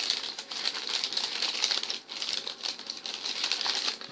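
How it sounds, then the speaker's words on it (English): A paper bag being folded down by hand for small craft packaging, giving a steady, close crinkling and rustling that runs throughout with a brief pause midway. "all I'm doing is folding the bag down"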